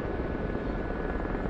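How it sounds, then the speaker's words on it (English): Low-flying Gazelle helicopter in the DCS flight simulator, a steady droning rotor and engine hum held evenly at moderate level for a brief stretch, with no talking. "That's the way I like helicopter flying."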